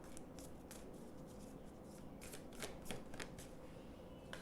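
Oracle cards shuffled by hand for a tarot reading, a quiet stretch of soft riffling and tapping with a few sharper card snaps toward the end, over low background hiss.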